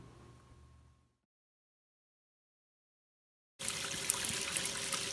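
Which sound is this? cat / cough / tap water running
tap water running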